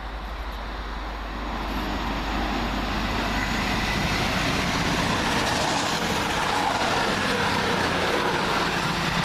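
CrossCountry passenger train running from Banbury toward Manchester Piccadilly, passing Smethwick Galton Bridge as a broad rumble that swells after a quiet start and holds steady, moderately loud.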